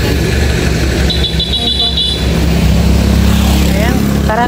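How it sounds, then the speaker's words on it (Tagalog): A motorized tricycle engine drones steadily nearby on a rural road beside houses, with a constant low rumble, a brief high beeping and people talking over it. "May tricycle."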